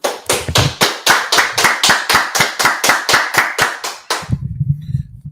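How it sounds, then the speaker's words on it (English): Hands clap in a steady, even rhythm, around sixteen loud claps in unison, then the clapping stops and a low murmur remains. "let's clap it up"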